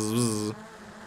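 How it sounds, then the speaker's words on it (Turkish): A drone gives a loud, close buzzing whine like a fly for about half a second, then cuts to a fainter, lower hum. "Sinek gibi ses çıkarıyor bazı drone'lar böyle vız vız vız vız."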